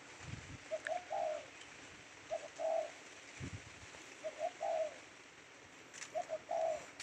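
A dove coos in repeated soft, mellow calls in short phrases, about four bursts with pauses between, over steady outdoor background noise and a couple of low thumps.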